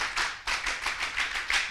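An audience of university students performs the Pramuka scout rhythmic clap, a patterned series of loud, sharp group claps in quick bursts with brief gaps, close and without any voices over it.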